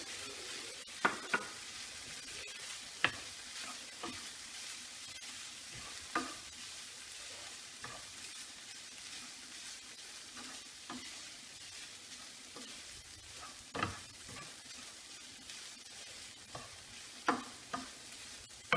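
Couscous tipped into a pan and stirred, with a quiet continuous sizzle-like hiss punctuated by sharp scraping and tapping strokes of the utensil at irregular intervals.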